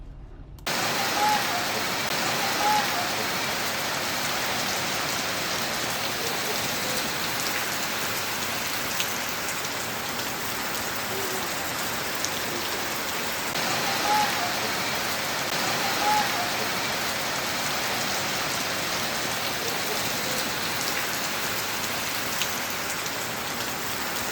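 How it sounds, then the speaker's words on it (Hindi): Heavy pre-monsoon afternoon rain falls in Kirnapur, Balaghat district, a dense, steady hiss of drops on surfaces that stays even throughout. There is no speech. "किरणापुर मुख्यालय में आज दोपहर झमाझम बारिश हुई"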